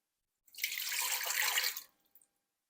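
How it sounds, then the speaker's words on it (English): Water poured into a bread machine pan as the first liquid ingredient, a steady splashing pour of about one and a half seconds that ends with a few brief drips, close and alone. "with bread machine recipes, you always put your liquid ingredients in first."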